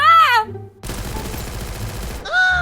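A burst of rapid automatic gunfire in the Free Fire video game rattles loud and dense for about a second and a half, framed by brief electronic game tones before and after.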